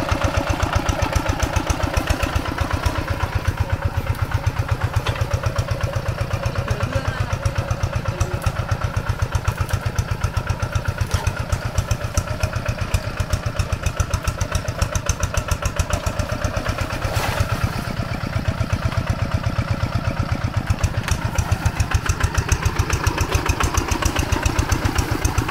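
An old Quick diesel tractor engine runs steadily and loudly for the whole stretch, a close, even chugging idle with a rapid regular beat and no pauses.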